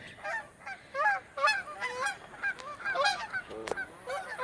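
Geese honk repeatedly in a noisy, overlapping chorus at a park, close and fairly loud, with brief pauses between bursts of calls.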